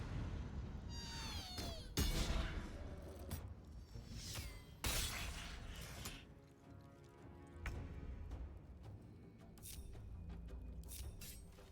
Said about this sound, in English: Now we have no more screeching cat.